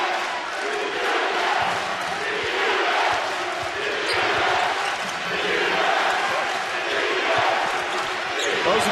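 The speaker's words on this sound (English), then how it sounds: "Those are the Tennessee fans you hear." Tennessee basketball fans roar in an arena during a college game against Georgia Tech, a loud sustained crowd cheer with a commentator talking over it.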